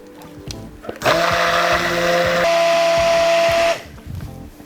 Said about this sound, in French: avec le mixeur plongeant